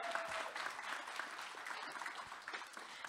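Conference audience claps for a student panel participant, a continuous, moderately quiet round of applause lasting the whole moment.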